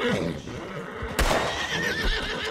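Horse in the Red Dead Online video game gives a loud, close whinny over a thudding hoof step, with game background sound running throughout.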